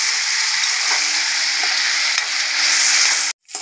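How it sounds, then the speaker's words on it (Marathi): Tomato paste fries with onion and coconut in a pan over medium heat, giving a loud, steady sizzle with stirring close by that cuts off abruptly just before the end. "इथे टोमॅटो पेस्ट टाकू, ती पण चांगली व्यवस्थित परतून घेऊ"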